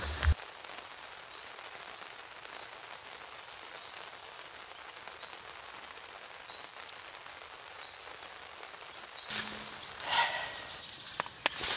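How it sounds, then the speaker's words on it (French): Steady rain patters continuously on a surface during a fishing outing, a soft even wash throughout with a few brief louder knocks near the end. "Ça semble vouloir se calmer un petit peu la pluie, mais alors ça n'a pas arrêté, pas arrêté."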